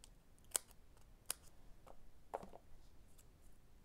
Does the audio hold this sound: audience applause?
no